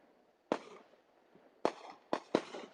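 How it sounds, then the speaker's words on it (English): Several fireworks explode in open air during a display at a raceway in Tennessee, one sharp boom followed after a pause by three more in quick succession, each with a short echoing tail. "They put on a spectacular fireworks display at Bristol International Raceway."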